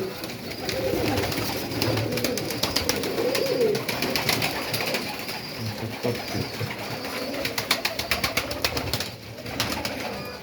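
Pigeons, including a chocolate-coloured hen, coo in a dovecote, their soft burbling calls rising through steady coop ambience with scattered clicks and shuffles over the full stretch.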